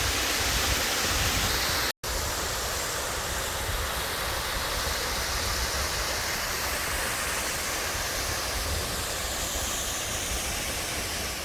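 Three Sisters Falls in inland San Diego pours down into a pond with a loud, constant rushing roar, dense and unbroken except for a brief cut near the start, with no voices.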